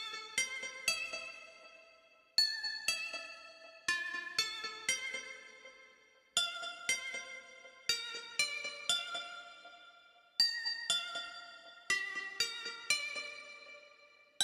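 A lead keys synth melody loop triggered from a Roland SPD-SX Pro pad plays bright, plucky bell-like notes in quick rhythmic phrases, each decaying quickly, clean and alone with short gaps between figures.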